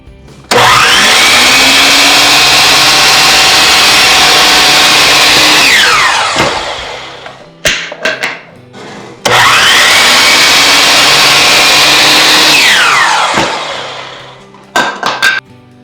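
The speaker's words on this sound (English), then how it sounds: "With my compound miter saw, we'll cut these 2 edges." A compound miter saw spins up loudly and cuts through wood molding twice, each pass a sustained whine that winds down, with brief clatter between the two cuts.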